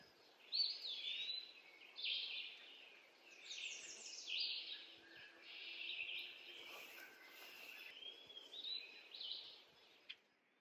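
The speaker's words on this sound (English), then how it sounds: "A yellow warbler can easily find insects here." A yellow warbler sings along a shrubby shore, a run of bright, quick, high phrases repeated over about ten seconds, faint against quiet background hiss.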